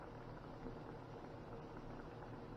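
Fish nuggets frying in hot oil over medium to high heat, a faint, even bubbling crackle that holds steady throughout with no talk.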